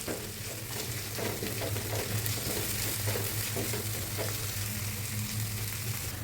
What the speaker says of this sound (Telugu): సన్నగా తరిగి పెట్టుకున్న ఉల్లిపాయలు టమాటో ఎర్రగా ఫ్రై చేసుకోవాలి